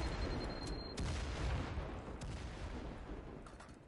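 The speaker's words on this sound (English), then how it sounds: "All right, here come the grenades." Grenade explosions and gunfire in the tactical shooter Firewall Zero Hour, a faint, distant-sounding mix of muffled blasts and rapid shots, with a couple of sharper bursts standing out against steady background noise.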